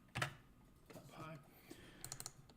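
Keys on a computer keyboard are tapped during coding, in brief clusters of quiet clicks with a slow stretch of talk in between, all faint and close.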